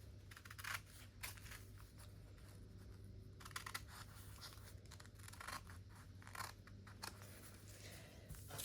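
Serrated scissors snip and crunch through material along a drawn pencil line while making a scissor case, a quiet irregular series of close cuts and rustles with no talking.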